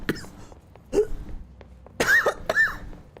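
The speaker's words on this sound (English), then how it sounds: "I can't stop coughing." A person coughs several times in short, close bursts, one near the start and a cluster of harsher coughs later, with quiet breathing and room noise between.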